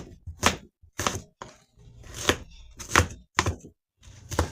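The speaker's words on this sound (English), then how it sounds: "now let's chop up eggplant. Real nice and fine." A knife chops eggplant finely on a board for a lentil stew, giving a series of sharp, close, fairly loud thunks in an uneven rhythm with short pauses between strokes and no talking.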